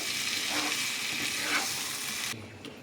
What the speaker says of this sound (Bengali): এবার এখানে পরিমাণ মতন গরম জল দিয়ে দেবো।